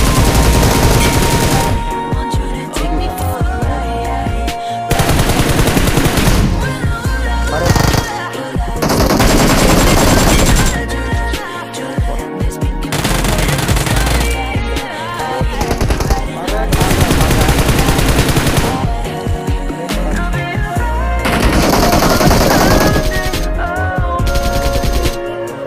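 Sustained automatic gunfire from the BGMI mobile battle royale game, loud, dense bursts of rapid shots repeating in clusters across the whole span with no speech.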